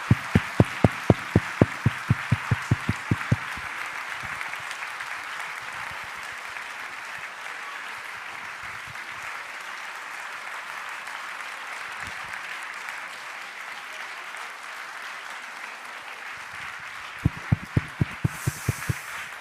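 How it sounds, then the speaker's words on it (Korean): A congregation at a Korean church prayer meeting claps in unison: sharp, rhythmic claps open the stretch, then settle into softer continuous applause before rhythmic clapping resumes near the end. "우리 선생님들과 아이들이 들어갈 때까지 박수 한번 합시다"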